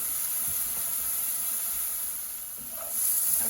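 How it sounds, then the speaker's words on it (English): Food sautéing in a pan over low to medium heat, a steady soft hiss and sizzle running evenly throughout, close and unbroken, with no talking. "you want to saute it on low to medium heat for about a minute"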